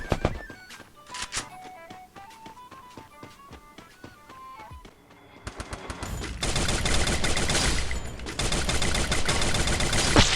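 Rapid gunfire from the Free Fire video game, with bursts of shots fired at long range, starts over game music and grows into dense, loud volleys in the second half.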